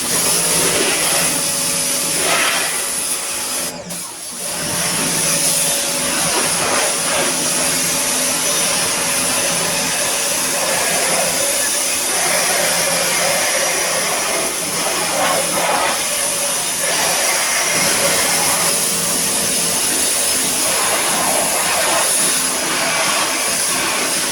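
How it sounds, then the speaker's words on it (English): Pressure washer blasting a Weber Genesis gas grill, a loud steady hissing spray that runs almost continuously with one brief break, close and harsh. "get a pressure washer, see what comes off."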